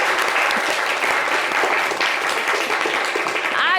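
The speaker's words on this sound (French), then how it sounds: "applaudissez pour monsieur Kakou." Audience applause on a French-language television show, loud continuous clapping from a studio crowd running throughout with slight swells.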